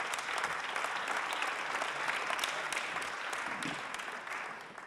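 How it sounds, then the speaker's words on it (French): A crowd applauds steadily and loudly throughout, a dense wash of clapping that welcomes a guest speaker at a conference on a new world of promises, holding level before easing slightly near the end. "Et j'aimerais qu'on l'applaudisse pour l'accueillir."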